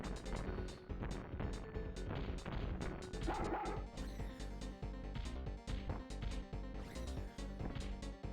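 A dog barks repeatedly in a Toy Story video game stage, its sharp yaps mixed into busy, loud game music with a steady beat.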